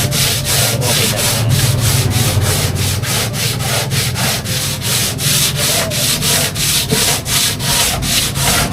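Grinder sanding a wooden cabinet, a loud steady abrasive roar with a fast regular rhythmic pulsing from back-and-forth passes, close and continuous.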